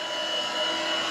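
A Shark Freestyle cordless upright stick vacuum runs with a steady, close, loud whirring motor drone that holds even throughout, with no talking over it.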